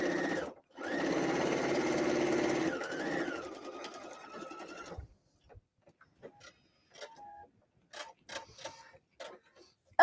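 A home sewing machine runs stitches through fabric for a paper-pieced kimono tea cozy. A short burst is followed by a brief halt, then a longer steady run of about two seconds, before the work falls quiet except for scattered light clicks and handling sounds.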